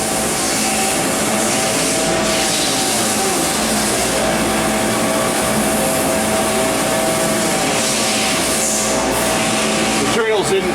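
Machinery hums steadily in a Sherline factory where a CNC lathe turns metal parts, such as a worm screw housing for a rotary table, with a continuous broadband whir under faint talk and a brief louder swish near the end.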